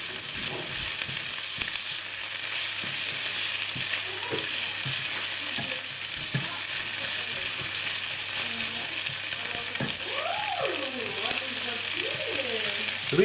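Onions fry in a pan with a steady close sizzle and occasional stirring scrapes, while a voice talks intermittently over it near the end.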